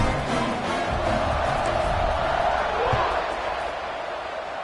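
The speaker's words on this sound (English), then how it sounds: "Night games are always so loud, so obnoxious, and these fans, they get something to cheer about" Crowd noise from fans at a night college football bowl game between BYU and East Carolina, a steady loud roar that stays constant, with a voice talking over it.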